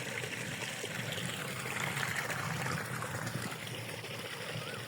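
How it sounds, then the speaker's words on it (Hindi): Floodwater from heavy rain flows steadily off village ground toward the fields with a soft, continuous rushing trickle, fairly faint and with no speech. "लेकिन अब ये पानी यहाँ से निकल रहा है, ये इस तरफ जा रहा है अभी ज़मीनों की तरफ।"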